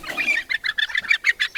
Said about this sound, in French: maintenant, on va essayer d'attraper le petit poulet